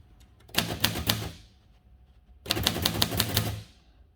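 A 1940 Royal Arrow portable typewriter being operated: two bursts of rapid, close mechanical clacking, each about a second long with a ringing carriage-type clatter, separated by a short quiet pause.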